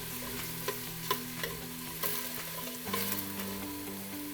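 Chopped onions sizzle in a pot while being stirred for Greek lentil soup, with a soft steady fry broken by several light scraping knocks of the spoon; no one speaks.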